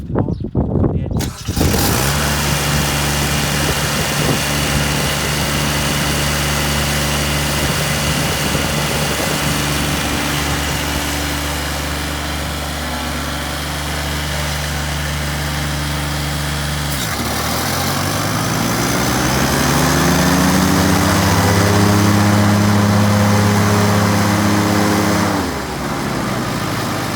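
A Scag Turf Tiger II ride-on mower engine runs steadily at close range after a brief start-up, with a drone that rises in pitch midway and then drops off near the end.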